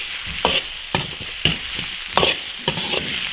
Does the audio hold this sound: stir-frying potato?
yes